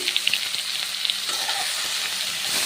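Ghetkol stalks and jackfruit seeds fry in hot oil, seasoned with turmeric, chilli powder and salt, making a steady bright sizzle broken by scattered spatula scrapes and clicks as they are stirred.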